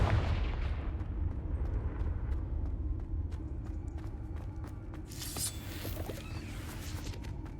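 Confringo spell blasts and combat effects in the video game Hogwarts Legacy, a dense continuous barrage of booming impacts and sharp cracks with a bright whooshing burst midway, loud throughout with no talking.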